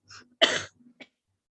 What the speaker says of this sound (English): I'm sorry, I'm having cough.